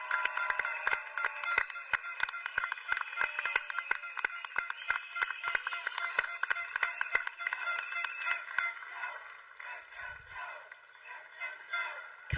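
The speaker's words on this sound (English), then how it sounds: "Can we give a big round of applause to SM Teo Chi Hian, please?" An audience at a Singapore general election rally claps in a dense crackle of many hands that rattles on for several seconds and then thins and fades toward the end.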